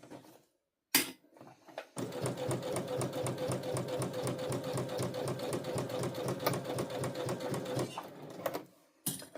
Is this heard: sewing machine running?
yes